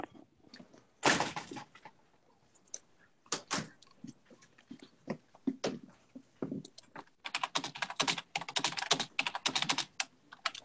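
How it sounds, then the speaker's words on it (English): Fast typing on a computer keyboard, close and fairly quiet: scattered keystrokes and a few louder clacks at first, then a dense, rapid burst of key presses toward the end, with no talking. "Fast typing."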